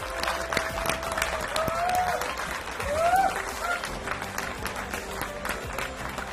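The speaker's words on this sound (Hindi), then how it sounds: "पूरा हॉल ही तालियों से गूंज उठा" Steady applause from a crowd filling a wedding hall, dense and continuous, with a few voices and cheers rising briefly over the clapping.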